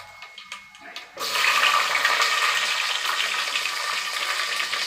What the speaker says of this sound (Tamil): ஒரு 5-6 பச்சை மிளகாய் போட்டுக்கலாம்.